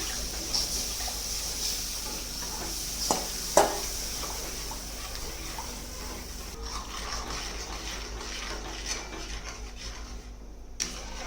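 Maharashtrian pithla batter being stirred on a low flame, a faint steady scraping and swishing in the pan with a few brief louder knocks of the spoon against the vessel.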